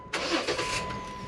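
A stock 2008 Jeep Wrangler X with a six-cylinder engine and 98,000 miles, at a dealer-only car auction, cranks briefly and catches, settling into a steady idle close by.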